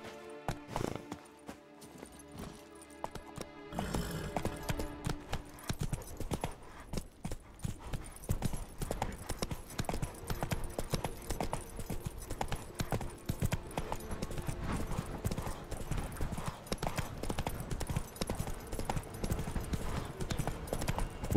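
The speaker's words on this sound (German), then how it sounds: "Da bist du ja, treues Pferd." Horse hooves clip-clop steadily in the Witcher 3 video game, a continuous rhythmic patter at moderate loudness over busy game music and ambience, with a brief whinny possible near the start.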